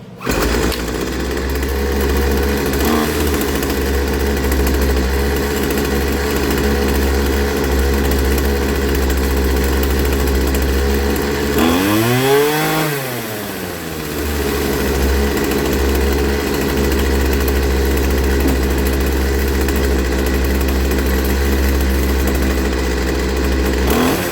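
Poulan Pro 25cc string trimmer engine running steadily loud and close, with a raspy two-stroke drone that revs up and falls back once partway through before settling back to a constant run.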